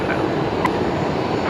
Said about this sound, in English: butter smooth landing. As always with Singapore